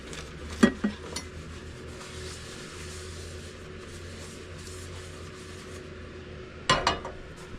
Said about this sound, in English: So I'm just gonna wipe the pan out real quick.